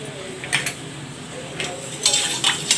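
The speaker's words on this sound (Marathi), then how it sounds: "साखर आणि मीठ व्यवस्थित मिक्स करून घेऊया." Sugar and salt being stirred into a coriander-cumin summer drink, with a few soft scraping clinks of a spoon against the vessel, spaced irregularly and fairly quiet against a low background.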